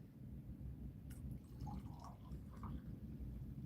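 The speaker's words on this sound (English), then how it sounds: "The pouring of coffee and tea sounds so good." Coffee pours from a pot into a cup, a faint, thin trickle whose tone rises as the cup fills, set against a steady low room rumble.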